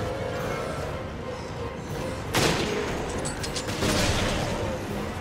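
Gunfire in the video game Resident Evil Revelations, with a sharp broadband shot near the middle and another a second later over a steady background of game ambience and music.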